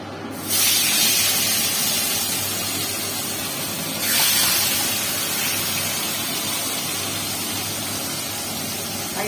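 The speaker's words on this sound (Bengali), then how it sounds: "মাছটা ভেজে নেবো মাছগুলো ভাজা হয়ে গেছে" Rui fish fries in hot oil with a loud, steady sizzling hiss that swells sharply twice as pieces hit the pan, then settles into a constant spitting rush.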